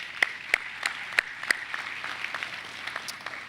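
Applause from a crowd at an outdoor groundbreaking ceremony for the Cleveland Clinic Global Peak Performance Center, with a steady wash of clapping and several sharp, louder claps standing out near the start, then fading slightly.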